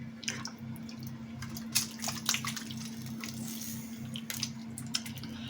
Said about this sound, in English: So I'm going to pour the sauce over.